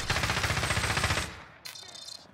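Rapid automatic gunfire in Call of Duty Warzone, a loud, dense burst of repeated shots for over a second, then a brief pause before quieter shots and a final crack at the end.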